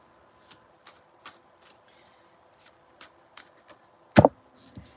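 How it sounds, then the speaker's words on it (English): A large tarot deck of about 150 cards is shuffled in soft, scattered riffles and taps, ending with one short, louder burst of card noise in an otherwise quiet room. "You just watched me shuffle 150 some odd of these cards, a lot."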